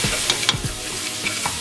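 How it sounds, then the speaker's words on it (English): Chicken sautéed with Caribbean curry powder in a pan, a dense close sizzle with a few quick spatula scrapes and clacks in short succession, loud and alone. "And I'm going to saute it up all nice together."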